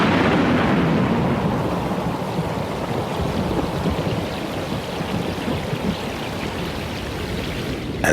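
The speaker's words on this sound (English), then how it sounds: "As the storm passes, they get pelted by icy rain" Heavy, icy rain pours steadily over ocean waves with a deep rumble of thunder beneath it, a dense, continuous storm roar that eases slightly after the opening.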